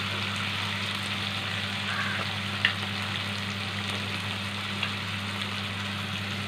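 Food frying in a pan gives a steady, even sizzle close by, over a low constant hum, with a couple of soft clicks.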